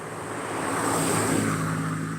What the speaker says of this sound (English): Dude, here's a car coming.